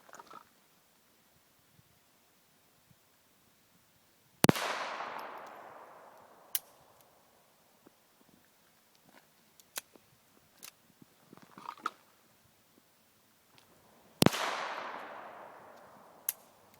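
A .22 pistol firing subsonic rounds cracks twice, with the shots spaced well apart and followed by ringing echoes, and small metallic clicks and handling noises fill the gaps between them.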